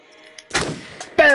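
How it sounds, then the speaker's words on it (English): A single gunshot from a gun fired in the horror video game Until Dawn, a sharp loud blast that quickly decays, then a second burst as the sound rises again near the end. "Press R2 to shoot."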